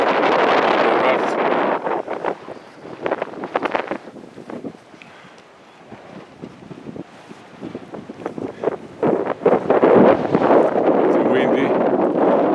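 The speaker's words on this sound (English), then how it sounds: "Windy." Strong gusts on a mountain buffet the microphone in loud, rumbling bursts that ease to a quieter lull in the middle before surging again toward the end.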